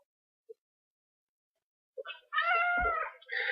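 A cat meows near the microphone: after near silence and a couple of tiny taps, a long drawn-out yowling meow follows, then a second shorter call.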